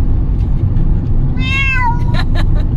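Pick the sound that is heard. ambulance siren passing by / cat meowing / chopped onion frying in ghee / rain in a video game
cat meowing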